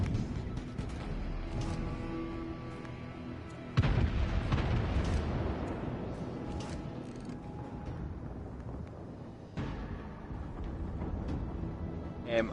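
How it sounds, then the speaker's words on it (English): A naval gun salvo from a warship fired at the cruiser Atlanta in a PS4 naval combat game: two heavy booming blasts roughly six seconds apart, each trailing off into a long rumbling roar under continuous mechanical background noise. "I just put a full salvo into that Atlanta and look how much damage I took off him"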